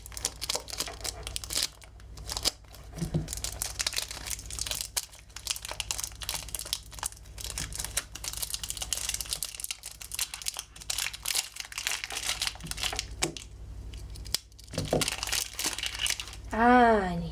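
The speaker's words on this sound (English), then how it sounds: "Here it is in some nice plastic wrap. So let's go ahead and rip away at that." Plastic wrap is torn and crinkled off a speed cube in a long stretch of rustling and ripping, with bursts of crumpling close by and a voice talking over parts of it.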